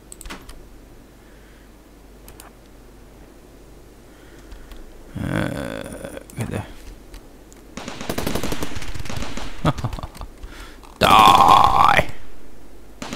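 Modded guns firing in RimWorld, including a Glock, Enfield and AK, sound as scattered bursts of gunfire, with a short volley midway, a longer sustained stretch, and a loud sharp burst near the end, otherwise fairly quiet between shots.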